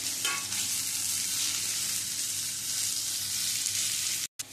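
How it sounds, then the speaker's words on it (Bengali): Soya chunks fry in hot mustard oil, giving a steady, close, loud sizzle that holds evenly throughout, with a brief stir near the start and a short cut just before the end. "এবারে এই তেলের মধ্যে মেখে রাখা সয়াবিনটা দিয়ে ভেজে নেব"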